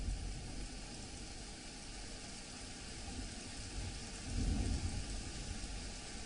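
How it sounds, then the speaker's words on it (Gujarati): Unseasonal rain falls steadily in Amreli as a dense, even hiss, with a low rumble swelling briefly near the end; no voices. "કચ્છ બાદ અમરેલીમાં પણ વરસાદ પડી રહ્યો છે"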